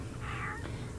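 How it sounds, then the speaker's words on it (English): A pet cat lets out a single short meow indoors, faint over a steady background hum. "That's my cat."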